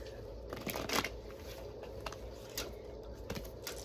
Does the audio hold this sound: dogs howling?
no